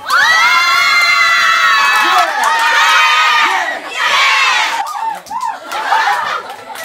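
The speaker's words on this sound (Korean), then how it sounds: "못지않은 환호 속에서 수업이 시작됐습니다" A classroom of Korean girls' middle school students erupts in loud, sustained cheering and high-pitched shrieks at the start of a songwriting lesson, the roar rising and falling with laughter and excited shouts.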